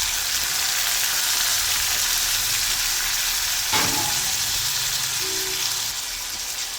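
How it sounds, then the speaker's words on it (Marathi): Chopped onion, green chili and tomato frying in a pan, a steady loud sizzle throughout with a brief stirring clatter partway through. "बारीक चिरलेला कांदा टाकून घ्यायचा आहे. आणि त्यातच हिरवी मिरची आणि टोमॅटो लगेच टाकून द्यायचा आहे."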